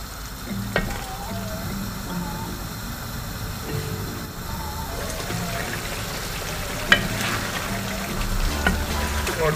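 Nigerian spaghetti jollof simmering in its tomato sauce in a pot, a constant low bubbling sizzle with occasional sharp utensil taps and clinks, no speech.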